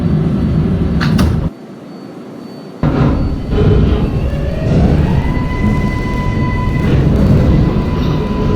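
A Manhattan-bound 7 skip-stop subway train running in a Roblox game, with a loud continuous rumbling roar, a brief drop to near quiet and a thud, then rising motor whine and steady rumble.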